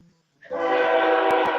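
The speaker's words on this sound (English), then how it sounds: "That's Dev's fucking train." A train horn sounds loud and sustained from about half a second in, holding a steady chord to the end with a brief thump near the close.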